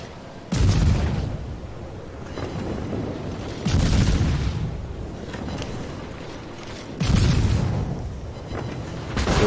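Ship guns fire in the World of Warships naval battle game, three heavy booming salvos spaced a few seconds apart, each a loud sudden blast that rolls off into a rumbling tail.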